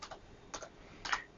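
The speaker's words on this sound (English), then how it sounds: "just typing something." Someone types on a computer keyboard, three quiet clusters of quick keystrokes separated by short pauses, close and soft, with no voices.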